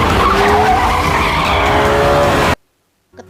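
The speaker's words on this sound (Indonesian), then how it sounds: "Terutama waktu adegan kebut-kebutan mobil." Car tires skid and squeal during a film car chase, a loud sustained screech with engine roar lasting a few seconds before cutting off abruptly into silence.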